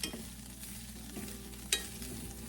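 Food in a frying pan is stirred with a metal utensil, a soft continuous sizzle with a few light scrapes and one sharp clink, quiet and without speech.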